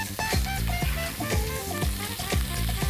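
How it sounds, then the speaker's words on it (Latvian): Pancetta sizzles and crackles in a hot frying pan for a carbonara, a steady loud sizzle with recurring sharp pops and stirring scrapes throughout. "Liekam uz sakarsēt pandas cepies."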